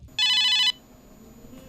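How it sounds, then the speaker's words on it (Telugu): A telephone rings with a bright electronic trill in a short loud burst, then a pause and the start of another ring, close and clear with no talk over it, during a Telugu comedy stage sketch. "ఎవరైడు ఫోన్ చేస్తున్నాడు, సాగొడుతున్నాడు."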